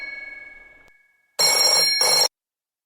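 A telephone bell rings loudly in two bursts, close and unaccompanied, following a fading tone and a brief silence.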